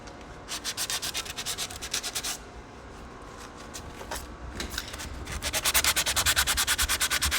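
Knife handle scales sanded aggressively by hand, producing rhythmic back-and-forth rasping strokes in two bursts separated by a quieter pause, close and steady with no talking.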